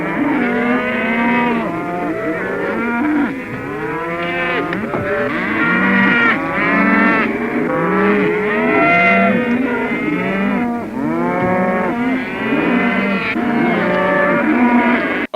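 A herd of cows mooing loudly and continuously in a movie scene, many overlapping long lowing calls close by with no gaps.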